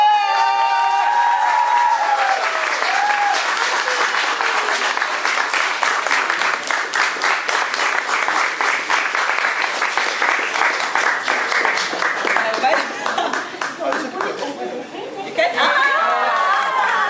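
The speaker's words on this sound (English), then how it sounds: "Let's give a warm hand of applause to Auntie Mercy!" Loud, steady applause from an audience at an awards ceremony fills the space, dense clapping running throughout, with crowd chatter mixed in and a voice returning briefly at the end.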